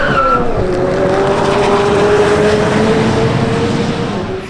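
A McLaren 750S drifting on the Laguna Seca race track, tires squealing in a long sustained screech over a loud, steady engine roar, close and continuous for several seconds.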